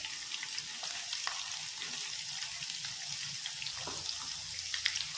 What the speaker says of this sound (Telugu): ఇప్పుడు ఈ మిగిలిన ఆయిల్లో అల్లం వెల్లుల్లి పేస్ట్ మూడు స్పూన్లు వేసుకోవాలి